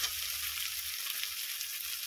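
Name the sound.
green banana and potato frying in oil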